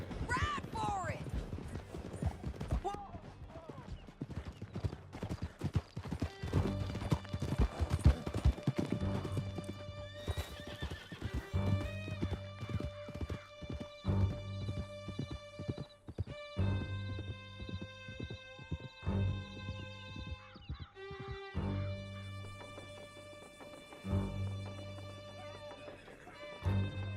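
Horses gallop hard in a Red Dead Redemption 2 chase through a canyon, with rapid pounding hoofbeats, loud whinnies and neighs, under a swelling orchestral score and bursts of shouting voices.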